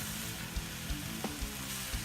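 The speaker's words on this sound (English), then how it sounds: "hear it sizzling" Chunks of brisket and cubed chuck roast sizzle in a hot pot for Tex-Mex chili, a steady broadband crackle with a few soft thumps and pops scattered throughout, close and uninterrupted by talk.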